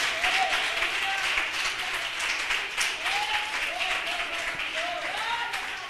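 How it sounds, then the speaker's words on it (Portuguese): A church congregation applauds together in sustained, dense clapping at a steady level, with a few voices rising above the crowd. "Vamos aplaudir o nosso Deus poderoso."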